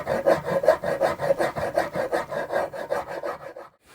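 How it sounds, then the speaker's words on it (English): Rhythmic rasping strokes of sandpaper rubbed back and forth over the wooden body of a custom guitar, close and steady at roughly three strokes per second, stopping abruptly near the end. "I've been sanding for a while."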